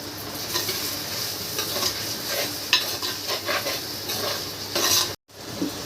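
Curry leaves sizzle and crackle in hot oil while being stirred in a pan for a brinjal and black chickpea sundal kara kulambu, a steady close-up frying hiss with scraping stir noises, then a sudden brief drop near the end.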